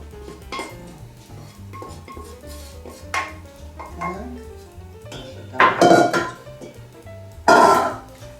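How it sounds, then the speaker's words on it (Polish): A minced meat and cabbage pierogi filling is worked in a large bowl, with scraping, scattered clinks of utensils against the dish and two louder clattering bursts near the end, under occasional quiet talk. "Skręcone mięsko z kapustą dajemy do większej miski, żeby to wyrobić"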